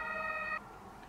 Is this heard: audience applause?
no